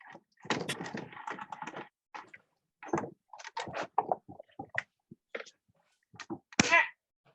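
A manual die-cutting machine cracks and crunches as plates carrying paper and a die are cranked through it, giving a series of close, irregular knocks, creaks and thumps separated by brief silences, ending in a sharper crack.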